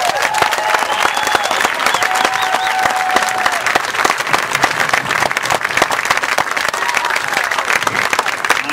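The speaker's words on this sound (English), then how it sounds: "Let's give them a round of applause." Crowd applause honoring the Davis High School Marching Band at a Rose Parade celebration, loud and dense from start to finish, with some cheering and whistles mixed in.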